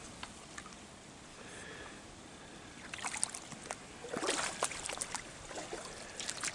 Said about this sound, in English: I really like the gurgling of a creek